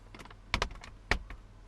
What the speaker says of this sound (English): this will actually fold those rear headrests